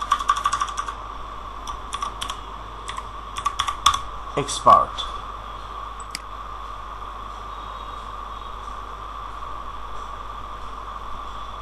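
Someone types on a computer keyboard in quick, close bursts of clicks over the first five seconds, then the keys stop and only a steady faint hum remains.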